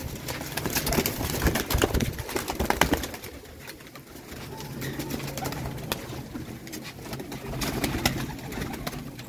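Pigeons coo in soft, repeated low calls amid rustling and shuffling, with intermittent clattering bursts nearby, as birds are caught by hand.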